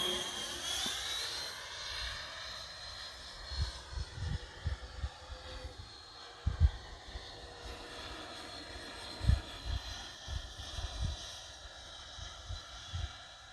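An RC MiG-29 electric ducted fan jet model flies overhead with a sustained whining rush that shifts in pitch as it passes, outdoors with wind buffeting the microphone.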